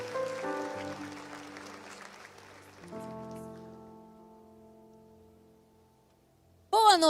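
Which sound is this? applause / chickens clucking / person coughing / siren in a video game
applause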